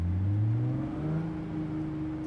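Video game car driving into and smashing through a barrier, a steady engine whir and roar with a rising pitch, loud and continuous with no impact standing out.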